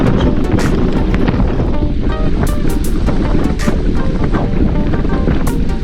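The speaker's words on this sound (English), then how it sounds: "The wind's picking up." Wind rushing past a cyclist on a group bike ride, a loud continuous roaring buffet across the microphone with occasional gusty surges.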